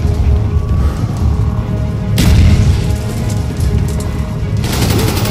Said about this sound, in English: They threw another grenade, are you serious?